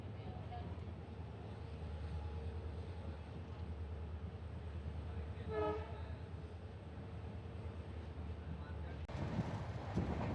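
Train pulling out of Lunkaransar station on an electrified Bikaner line, heard from on board as a steady low rumble of running gear, with a brief horn-like tonal burst midway and louder clatter near the end.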